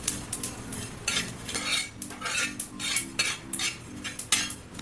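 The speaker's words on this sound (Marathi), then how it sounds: "इथे मी तीन चमचे एवढे गावरान तीळ घेतलेले आहेत यावर देखील थोडेसे तेल घालायचं हे देखील आपल्याला एकदम मंद गॅसवर भाजून घ्यायचं आहे" Traditional local sesame seeds roasting in a little oil in a pan over very low heat, stirred with a spoon that scrapes and clinks against the metal in a steady rhythm, with a soft sizzle underneath, close and fairly quiet.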